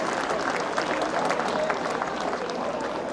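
Sustained crowd applause at a women's professional golf tournament, the Portland Classic final round, a dense steady clapping from many spectators around the green, fairly loud and continuous throughout.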